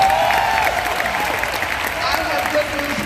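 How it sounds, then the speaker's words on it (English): Audience at the Essence Festival 2018 applauding panelists, steady clapping from a large crowd with a voice speaking over it through much of the stretch. "Give them a big round of applause."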